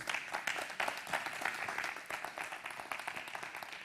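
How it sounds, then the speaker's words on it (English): Audience applause at a conference stage event welcoming a speaker, a steady wash of many hands clapping that holds loud and dense throughout, easing slightly toward the end. "so big round of applause,"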